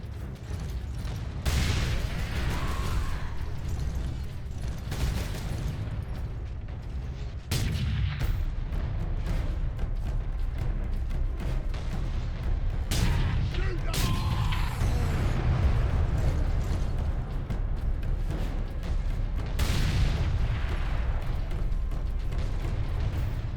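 Gunfire in the video game Space Marine: sustained, loud bursts of bullets and heavy booming shots run almost continuously with brief gaps, with no voices over them.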